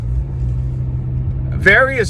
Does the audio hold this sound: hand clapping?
no